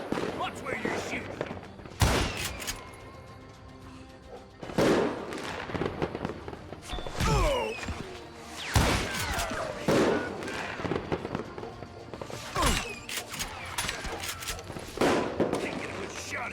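Gunshots crack repeatedly in the Wild West shooter Call of Juarez: Gunslinger, loud revolver and rifle blasts spaced irregularly, some in quick pairs, with in-game character voices speaking between and over the shots.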